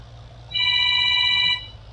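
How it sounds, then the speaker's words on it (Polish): A telephone rings in one bright electronic burst lasting about a second, loud and clear over a low background hum, with no talking. "Słyszę, jak tam nawala ten telefon."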